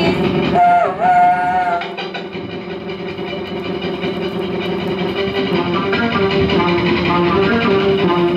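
A train nicknamed the chocolate train from Brussels sounds a whistle blast at the start. A loud, steady, close rumble of the running train continues after it.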